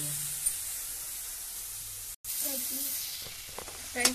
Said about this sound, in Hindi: ये मसाला अच्छी तरीके से और भुन जाएगा